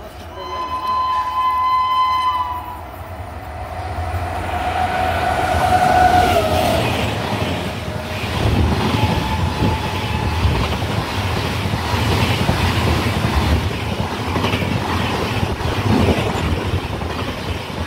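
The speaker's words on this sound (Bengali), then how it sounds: "একটা ট্রেন আসছে" The Mumbai–Howrah Mail rolls loudly into Dankuni Junction station with a horn blast early on, followed by continuous rumbling and clattering wheels on the tracks, close and sustained.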